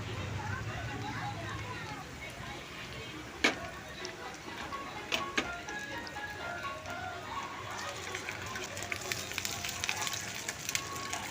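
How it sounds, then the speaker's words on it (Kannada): Curry leaves fry in hot oil with a steady, fine sizzle and crackle, broken by a few sharp pops and spatters and swelling brighter near the end, with a voice talking over it. "ಕರಿಬೇವು ಕೂಡ ಈ ಥರ ಫ್ರೈ ಆಗಬೇಕು"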